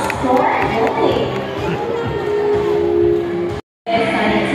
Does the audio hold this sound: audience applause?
yes